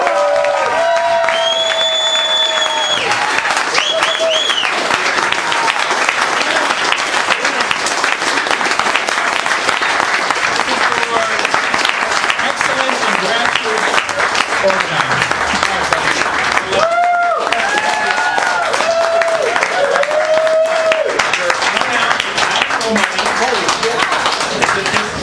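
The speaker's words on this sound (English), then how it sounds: "give a full round of applause for the full Monty Award" At a libertarian holiday party, a room of guests gives a full, sustained round of applause for an award, loud and close, with scattered voices and cheers rising over the clapping throughout.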